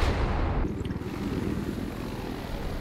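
A helicopter in the video game Battlefield 4 gives off a loud, steady rotor and engine roar with dense low thumping, holding constant throughout after a brief initial burst.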